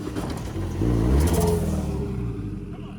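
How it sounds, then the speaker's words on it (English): A second-generation Toyota MR2 drives by close, its engine swelling to a brief revving peak then fading as it passes, with no talk over it. "Out of nowhere, a second gen MR2 just drove by."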